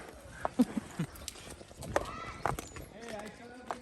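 A big horse named Big walks on a farm, its hooves clip-clopping in an uneven rhythm close by, while people talk over and between the steps.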